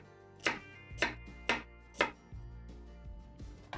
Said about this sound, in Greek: Ξεκινάς με τα καρότα, που αφού τα πλύνεις και τα ξεφλουδίσεις, τα κόβεις σε μικρά κομμάτια,